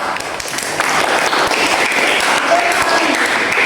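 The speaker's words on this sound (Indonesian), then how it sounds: "Tepuk tangan untuk Evanda." Sustained applause from a classroom full of students, steady dense clapping throughout with a few voices mixed in.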